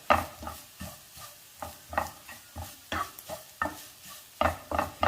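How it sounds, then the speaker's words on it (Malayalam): Grated coconut being browned in a pan over a medium flame makes rhythmic scraping stirs every half second or so, each followed by a soft sizzle, in the quiet between strokes. "ഇനി ഈ തേങ്ങ ഒന്ന് ചുവക്ക വറുത്തെടുക്കണം."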